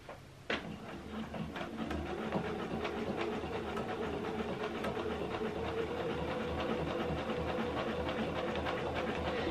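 A sewing machine fitted with a walking foot stitching a quilt with 12wt thread starts with a sharp clunk, then runs a steady, rapid mechanical chatter, close and constant with no talking.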